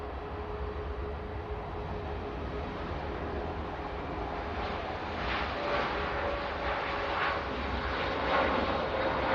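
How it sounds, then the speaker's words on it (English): A Boeing 787-8 Dreamliner takes off from Manchester Airport on a positioning flight, its engines producing a steady, distant broadband roar that swells slightly toward the end. "Dreamliner now on a positioning flight"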